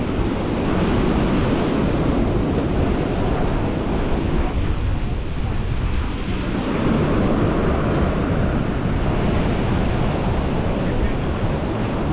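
Sea surf rolls continuously onto the shore at Sochi in December, a loud, dense wash of breaking waves mixed with wind buffeting the microphone.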